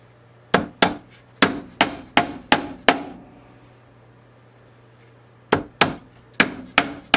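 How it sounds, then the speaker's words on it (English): Hammer tapping small wood pieces on a bee brooder box, sharp knocks in two bursts of about seven and five strikes, close and loud with a short pause between. "tapped them with the hammer."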